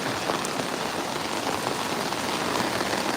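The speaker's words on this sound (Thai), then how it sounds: "พักท้ายครับกับบรรยากาศฝนตกนะครับ" Steady, dense rain pattering on a surface, a continuous hiss of drops with no voices, even and moderately loud throughout.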